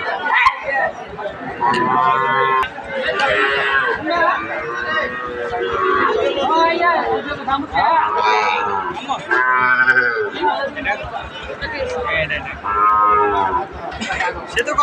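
A Sahiwal calf moos repeatedly at a cattle sale amid bidding, through a busy stretch of overlapping voices, the lowing loud and close, recurring every few seconds amid steady chatter.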